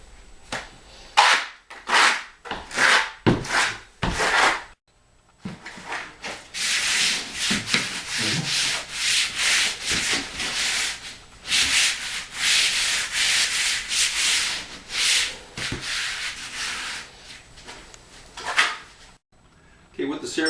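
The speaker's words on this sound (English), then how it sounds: "Use the back flat side of the trowel to key it into the concrete, and then use our notches to embed it." Steel trowel scraping and rubbing Cerazorb underlayment into a concrete floor, its flat back pressed and dragged in rapid repeated strokes with brief pauses, close and fairly loud, under occasional speech.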